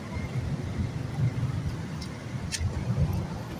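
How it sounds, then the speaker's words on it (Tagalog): Road traffic on EDSA in Manila at four in the afternoon, a steady mid-distance rumble of passing cars and engines with a brief higher hiss from a passing vehicle. "talagang alas 4 pala ng hapon, mahaba na ang traffic dito sa EDSA"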